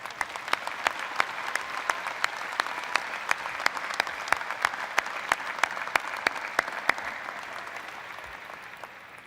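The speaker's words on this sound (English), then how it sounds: "Would you all join me in a round of applause for our outstanding faculty?" Commencement audience applauding the faculty at a 2022 undergraduate ceremony, a steady, fairly distant crowd clap with sharp individual claps standing out, fading slightly toward the end.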